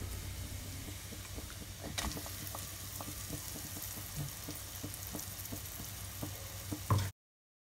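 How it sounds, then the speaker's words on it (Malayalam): Ground roasted coconut masala paste sautéed in a pan for Kerala-style sardine fish curry, a steady soft sizzle with occasional stirring scrapes, close and continuous before cutting off. "ഏകദേശം ഒരു മിനിറ്റോളം നന്നായിട്ട് വഴറ്റി കൊടുത്തിട്ടുണ്ട്"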